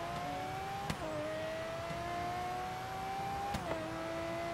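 A car engine in the video game Forza Horizon 3 holds a high, steady whine, dropping briefly in pitch twice as it shifts gears and climbs again.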